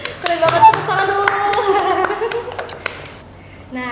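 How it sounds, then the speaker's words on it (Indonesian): A few people in a podcast studio clap for the guests, with sharp, close claps mixed under cheerful talking and laughter that then fade out. "tepuk tangan dulu"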